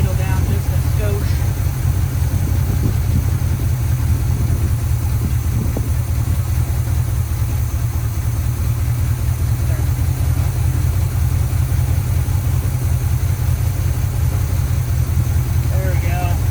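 A 1974 Chevy C20 engine idles with a steady low rumble after its idle is turned down, a constant loud drone filling the space with a faint voice over it.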